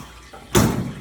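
Oil rushes from the drain of a Royal Ultra Plus fryer as the lever opens halfway, a sudden close gush that stays loud and steady after a brief quiet start.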